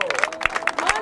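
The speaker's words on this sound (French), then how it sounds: "On applaudit capitaine, s'il vous plaît." Audience clapping for a captain at the Grain d'Pirate festival in Binic, an outdoor pirate event; quick, dense hand claps from a crowd, brief and mixed with voices and chatter.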